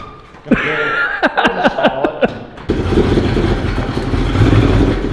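An abandoned Ford Mustang, revived with ignition fluid, coughs through a few sharp sputtering bursts, then settles into a loud, steady rough engine rumble as the car creeps forward under its own power.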